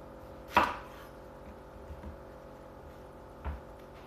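A knife chopping an onion on a board, two distinct close chops about three seconds apart with a faint tap between, against quiet room background.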